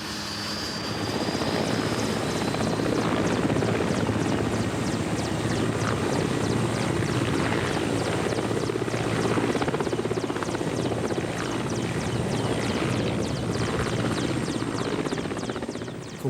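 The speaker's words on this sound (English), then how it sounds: "one of the myriad private companies now running these old military helicopters" An old military helicopter drones steadily throughout, a dense whirring roar of rotor and engine heard from inside or close by, with no pauses.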